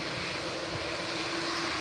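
A Jet2 airliner taxiing at Birmingham Airport, a steady broadband engine roar with a sustained tone, continuous and moderately near with no talk.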